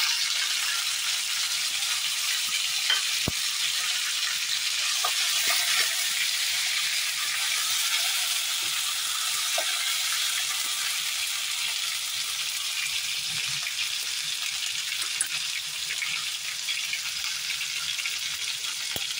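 Ginger garlic paste fries over low gas in a pan, making a continuous bright sizzle with occasional small pops and stirring taps, close up and steady, with no talking.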